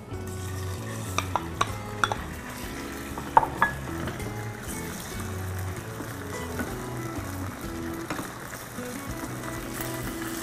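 Beef stir-fried in hot oil in a wok, a constant sizzle broken by sharp metallic clinks and scrapes of the spatula, with no talking.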